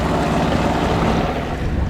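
A boat out on the ocean pushes through waves, giving a steady, loud rush of water and wind noise against the microphone, with no voices.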